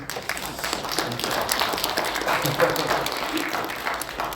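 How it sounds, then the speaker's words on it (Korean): Lecture-hall audience applause, a dense wash of many hands clapping at moderate volume that swells slightly toward the middle and continues without talk. "박수를 쳐주시니까 감사합니다"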